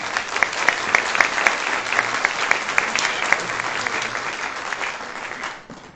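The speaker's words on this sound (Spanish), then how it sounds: "les pido un fuerte aplauso" Applause from the audience at a public forum on voting from abroad, steady and fairly loud clapping that fades out near the end.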